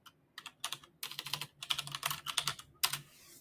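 Quick bursts of keystrokes on a computer keyboard while a message is typed, close crisp clicks in uneven runs separated by short pauses.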